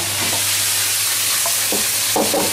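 Tilapia and Chinese celery stir-fried in a pan: a steady close sizzle under scattered scraping and clinking of a utensil against the pan, with no talk.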